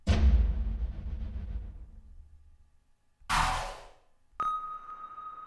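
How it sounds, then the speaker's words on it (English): Synthetic sonar-style effect from a free sound effects pack: a loud decaying low boom, then a short whooshing burst, then a sustained steady ping-like tone ringing alone. "sonar type sound"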